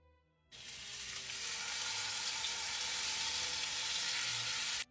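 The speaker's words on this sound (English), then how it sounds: "A properly heated pan will give you the Maillard reaction that you're looking for when searing this" A large cut of meat hits a hot pan of avocado oil and breaks into a loud, steady sizzle that continues unbroken to the end.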